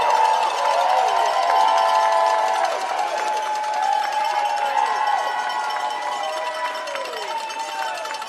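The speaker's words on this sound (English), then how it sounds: "give a huge congratulations and an applause for all of those who are still holding down the fight inside this" A protest crowd outside the U.S. Department of Education cheers and claps, its noise spread wide and a little distant, while car horns and sirens sound over it in sustained and gliding tones during a honk-a-thon.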